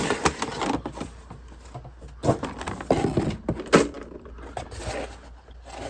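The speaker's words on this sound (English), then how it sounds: "So I'm going to cut the tape on the side here." A blade slices through packing tape along the side of a boxed Black Series Darth Maul and Sith Speeder toy, a close scratchy rasp with small knocks and rustles of cardboard.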